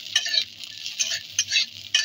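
Raisins frying in a pan for milk semai are stirred briskly, with repeated scraping strokes over a continuous light sizzle, close and fairly loud.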